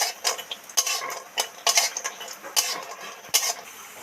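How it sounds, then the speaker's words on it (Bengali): Fried lentil dumplings (bori) stirred and lifted from a little oil in a pan, with sharp metal spoon scrapes and clinks at a regular rhythm over a soft sizzle, close and clear. "বড়ি তো ভাজা হয়ে গেছে এবার তেল ছেঁকে উঠিয়ে নিচ্ছি"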